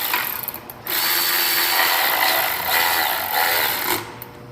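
Compact 1/4 inch Milwaukee cordless ratchet running in a loud, steady mechanical whir for about three seconds, stopping briefly and starting again, during coil replacement under a car's engine cover.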